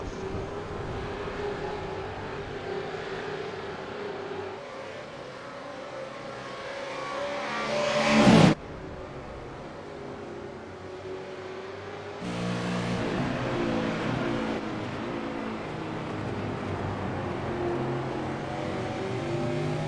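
V8 race cars in a New Zealand SuperCars V8 Summer Series race: engines roar steadily, one swells to a loud peak, drops off sharply, then returns as a continuous rumbling drone.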